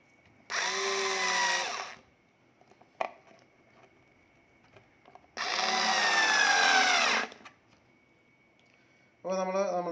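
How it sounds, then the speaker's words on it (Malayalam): A power screwdriver drives screws to fix a speaker socket plate onto a two-way speaker box, whirring in three bursts of one to two seconds each, close and loud, with light clicks and handling noise between them. "അപ്പോൾ നമുക്കിനി ഇതൊന്ന് ഈ ഒരു ബോക്സിലേക്ക് നമുക്കൊന്ന് സ്ക്രൂ ചെയ്ത് വയ്ക്കാം."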